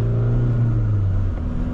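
1994 VW Passat B4 1.9 TDI diesel accelerating hard, heard from inside as a loud, steady droning rumble with a low engine tone that holds, then shifts slightly near the end.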